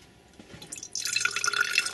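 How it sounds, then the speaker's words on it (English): Separated liquid with a layer of oil being poured, a quiet start rising into a steady splashing trickle for the last second, close and fairly loud. "So what we're going to do now is just pour it."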